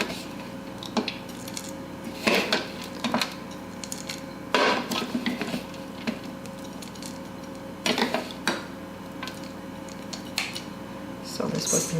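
Almonds scooped with a measuring cup for German Elisen gingerbread cookies, giving scattered clattering rattles and clinks at moderate distance over a quiet steady room hum.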